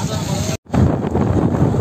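Wind roars past a bicycle coasting fast downhill on a road at about 30-35 km/h, a loud, steady buffeting rush with a brief dropout partway through.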